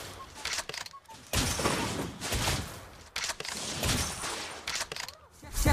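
Sniper rifle fire in a video game, several loud bursts of gunfire with crackling impacts spread across a few seconds, set against game noise with a faint voice underneath.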